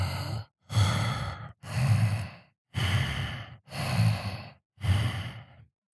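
A person imitates heavy mouth breathing, six slow rasping breaths in a steady rhythm with short pauses between, close and loud like snoring.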